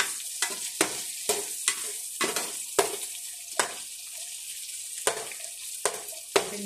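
Pork sautéing with garlic and onion in a pan, a soft background sizzle broken by sharp scraping and clacking strokes of a utensil stirring at an uneven pace.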